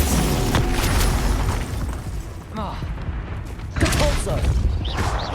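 Glacius ice spell cast during combat in Hogwarts Legacy, a crackling magical burst amid repeated booming spell impacts and fight noise, loud and busy throughout.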